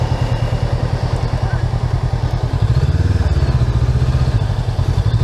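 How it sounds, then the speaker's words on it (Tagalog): Several motorcycles rumble at a busy tourist spot in Baguio, a steady low engine drone with a pulsing idle beat that swells around the middle, heard close and fairly loud amid crowd noise. "Ayun o, mga motor."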